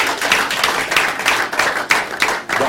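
A church congregation claps for a visiting preacher just after a sermon. The applause is loud and close, with rapid, dense hand claps rising and falling in waves, and no voices.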